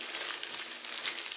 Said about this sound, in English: it comes in this little plastic bag.